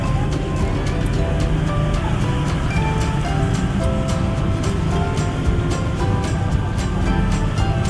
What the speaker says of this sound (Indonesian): terus suara motor hiruk pikuk.